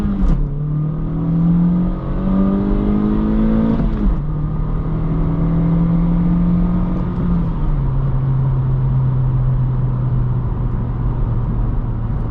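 A 2022-2024 Honda Civic Sport 2.0 with a manual gearbox, driven in city mode, pulls hard as the engine note climbs, then drops twice at upshifts, loud and close with no talking.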